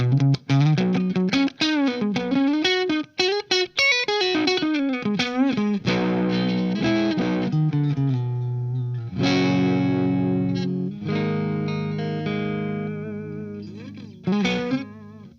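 Brighter, twangier electric guitar in single coil pickup mode, with distortion and chorus, plays a fast run of notes, then settles into ringing chords and a few sustained notes.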